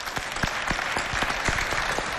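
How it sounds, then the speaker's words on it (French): Audience applause for the women performers at the FestAfrica show, a dense steady wash of clapping from a crowd lasting the whole moment, fairly loud with a few sharper claps standing out. "applaudissez pour ces belles dames"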